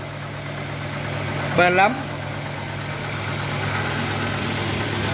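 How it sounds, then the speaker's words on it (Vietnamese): A 2005 Kia Spectra's engine idles smoothly with a steady, even hum, while someone speaks briefly over it partway through. "Máy hoạt động nè, máy nổ rất là êm vậy thấy không."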